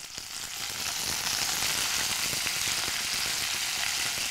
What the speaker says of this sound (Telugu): పోపు చిటపటలాడితే వంట బాగా చేసినట్టు లెక్క